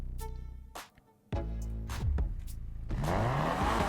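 A car in Need for Speed Unbound pulls out of a garage, its mid-pitched engine revving and rising in bursts with a brief lull, then a steady louder drive with faint tire noise, no talk.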